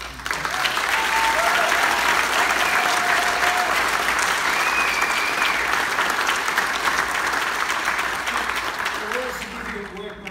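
A graduation audience applauds a guest speaker, dense sustained clapping from a large crowd lasting about ten seconds before tapering off, with a few voices over it.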